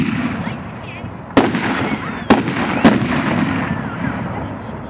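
Consumer fireworks going off at a 2013 American fireworks demonstration, three separate sharp booms spaced about a second apart over steady outdoor background noise and crowd murmur.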